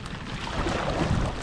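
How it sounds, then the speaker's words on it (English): Steady rain hisses and patters around a kayak paddling in the Florida Keys, a dense, continuous wash of noise with some low rumble from wind against the microphone. "We got caught in the rain."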